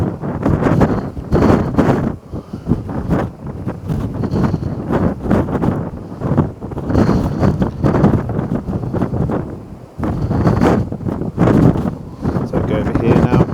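Strong gusty wind buffets the microphone outdoors at a rocky coastal sketching spot, with loud rumbling bursts that rise and fall throughout and no clear voice.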